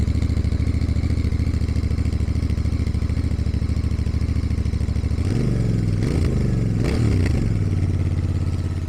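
A 2025 Royal Enfield Bear 650 with fuel injection, run cold in neutral, holds a loud, steady, throbbing idle up close, then gets two or three sharp throttle blips that rise and fall near the end.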